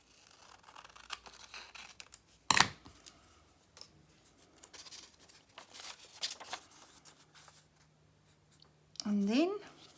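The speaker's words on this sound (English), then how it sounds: "And I'm just going to cut it off there." Scissors snip paper while an art journal is prepared, a single sharp cut standing out near the start amid soft handling rustles, with a brief higher squeak toward the end.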